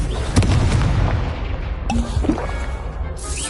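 The Confringo explosion spell goes off in the Hogwarts Legacy video game during a duel, with heavy booming blasts and crackling bursts among the other combat effects.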